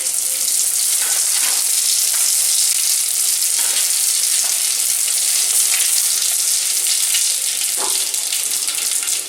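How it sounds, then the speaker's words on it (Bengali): Mustard and poppy seeds crackle and sizzle in hot mustard oil in a pan, a close, steady frying hiss with small pops and occasional faint clinks. "আমি এবার ফোড়নের জন্য রাখা সর্ষে আর পোস্ত এতে দিয়ে দিচ্ছি।"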